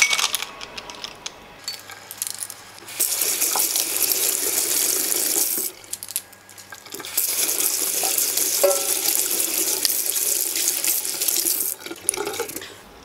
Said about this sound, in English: sometimes they hold a bit of soap in them. So I usually rinse them and just see.